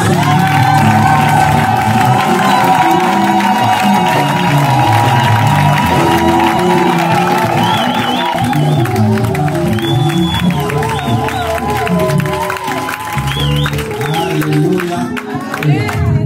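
A church congregation cheers and acclaims at a service in Illinois, a loud, dense crowd roar with shouts, whoops and scattered clapping sustained throughout, over music and voices.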